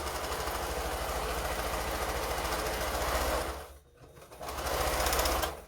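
A sewing machine stitches a quilt seam with a close, steady rapid mechanical whir, pausing briefly near the end before running again.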